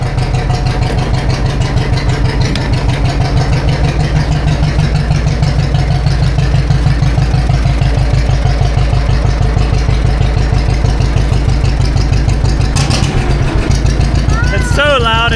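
A classic farm tractor with a blown engine runs in 20-degree cold, holding a loud, steady idle with a low rhythmic chug throughout, while voices speak over it near the end.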